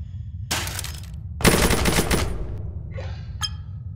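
Bursts of rapid automatic gunfire from guns in the physics sandbox game People Playground, two dense volleys about a second long each, followed by a few lighter sharp shots, loud and close with no talk.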